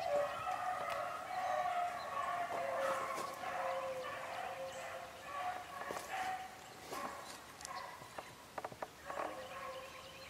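Hunting dogs baying on a rabbit trail outdoors, several yips, barks and drawn-out howls overlapping from some distance, fairly faint, with a few brief sharp knocks near the end.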